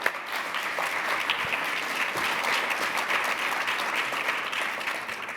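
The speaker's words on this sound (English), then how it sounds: "Let's give him a round of applause, yeah?" An audience at a conference panel applauds in a steady, even wash of clapping that holds for several seconds without a break.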